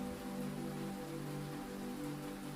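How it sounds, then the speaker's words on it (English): Steady rain falls at night, a soft continuous patter on surfaces with an even, unbroken hiss and no voices. "But the rain keeps going."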